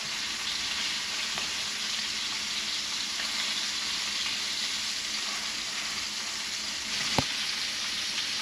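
Lamb chops sear in a hot pan with a steady, dense sizzle throughout, one brief metallic tap near the end, close and even with no voices.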